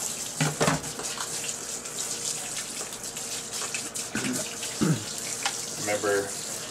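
Tap water runs and splashes as a paintable airsoft mask lens is rinsed off, a steady hiss broken by several brief gurgling, sloshing bursts as the lens moves under the flow, at a moderate level.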